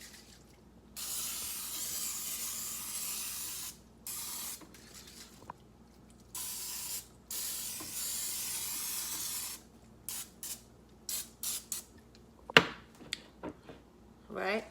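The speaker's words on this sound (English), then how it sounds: "I'm using some canola oil spray" Several bursts of canola oil cooking spray hiss from an aerosol can, each lasting a second or two, followed by scattered short spritzes and light clatter.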